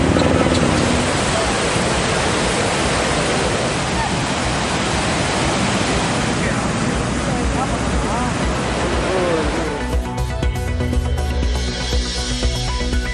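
Pykara waterfall in Ooty pouring steadily, a dense, loud and continuous rush of falling water that shifts in texture toward the end.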